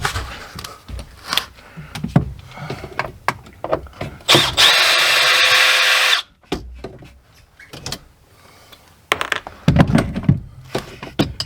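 Cordless power drill backing screws out of a water tank, with short whirring bursts and one sustained run of a couple of seconds, close and loud, separated by clunks and handling noise.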